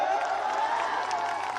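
Audience applause and cheering at a Khesari Lal Yadav stage show, a steady dense wash of clapping and crowd noise throughout.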